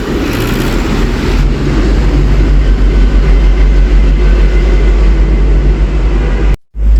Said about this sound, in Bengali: এই যে গিয়ার লাগাইলাম এই যে গিয়ারটা শুধু লাভ মারে শুধু লাভ মারে